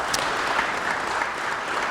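A crowd claps steadily through a round of applause at a 2016 Hall of Fame induction ceremony, a dense even patter with no voices on top.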